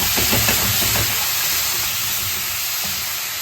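Beef stir-frying in a pan with onion and stirred with a wooden spoon, a loud steady sizzle with a few soft scraping knocks early on.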